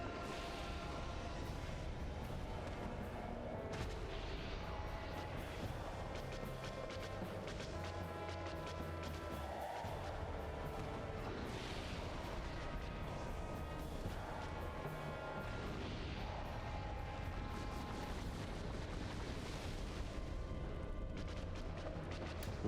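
An enemy in Dark Souls: Remastered spamming fire attacks, a dense continuous roar of rumbling blasts and crackling bursts layered with game noise, loud and unbroken throughout.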